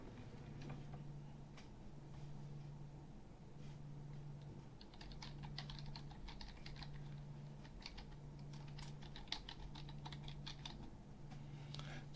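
Soft clicking of keys as an email address is typed on a computer keyboard, quick irregular bursts of taps heard faintly over a low pulsing electronic hum.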